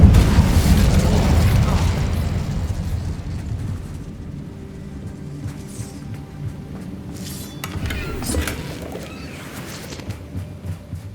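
A fiery blast of the Incendio spell in the Hogwarts Legacy video game, loud at first and then fading into a rumbling, crackling tail, with a second burst rising later under game ambience.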